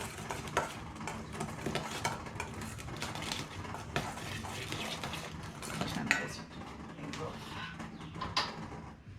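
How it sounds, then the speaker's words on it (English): A spoon mixes potato salad at an outdoor camp-cooking setup, making soft scraping and clinking against the bowl in irregular strokes. A voice talks throughout, and faint birds sound in the background. "Just give them a good little mix around like that."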